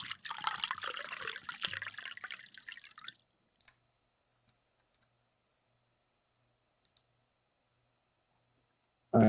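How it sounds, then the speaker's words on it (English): Coffee poured into a cup, a dense splashing liquid stream for about three seconds that stops abruptly, then near silence with a few faint drips and ticks before a sudden loud thump at the end. "I just heard you pour coffee."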